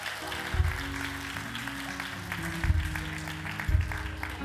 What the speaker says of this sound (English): Y'all clap for them.